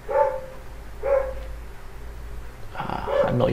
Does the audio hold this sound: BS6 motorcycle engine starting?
no